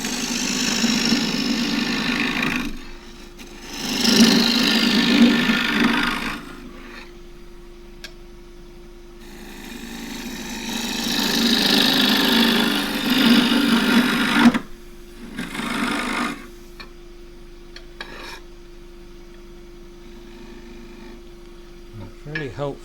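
Quarter-inch fluted bowl gouge with a long asymmetric grind cutting green elm on a wood lathe for a small beaded pot, with a steady motor hum beneath two or three louder bursts of cutting as the tool engages, separated by quieter spells.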